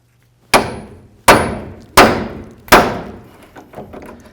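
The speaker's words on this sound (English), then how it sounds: "Go ahead and hammer it in." Four heavy metallic hammer blows drive a pickle fork between the inner and outer tie rod ends of a 1988-2002 GMC Sierra, each strike sharp and ringing with a decaying tail, spaced evenly about a second apart.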